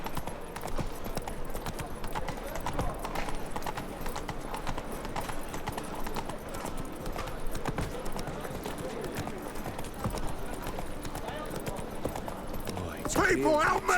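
Steady clip-clop of Roach the horse's hooves in The Witcher 3, a continuous rhythmic trot under an ongoing ambient bed of sound.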